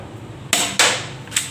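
Three sharp, snappy gunshots fire in quick succession, with a short pause before the last. The cracks are close and loud, and no one speaks.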